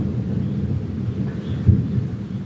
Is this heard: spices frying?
no